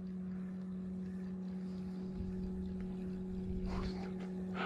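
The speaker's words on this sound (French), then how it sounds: "il n'y aurait pas le bruit du moteur, ça irait encore mieux" Steady outboard boat motor droning at close range during kayak fishing on the sea, a constant low hum with a clear tone, with splashing and rustling rising near the end.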